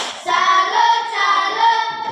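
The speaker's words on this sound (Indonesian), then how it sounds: "Tepuk salut buat kelompok Kamboja." A class of students performs a rhythmic salute clap in a classroom, loud and close, with clapping mixed under the sustained sound of voices.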